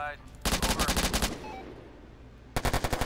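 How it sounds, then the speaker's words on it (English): Machine gun fire in the Warfare Online combat game, a fast rhythmic burst lasting about a second, a pause with faint talk, then another loud burst at the end. "Look at this machine gun."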